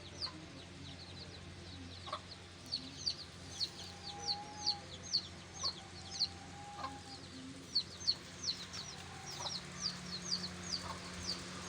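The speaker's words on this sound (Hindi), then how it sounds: "ये इस मुर्गी के बच्चे हैं" Five-month-old chickens on a poultry farm give repeated soft clucks and chirps in an irregular rhythm, fairly close over a quiet background hum.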